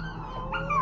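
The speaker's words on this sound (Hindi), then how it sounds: "दूर से एक आवाज आती है एकदम चिल्लाने की, कुत्ते की" A dog in a film lets out a short, rising yelp, a brief whining cry that lifts in pitch.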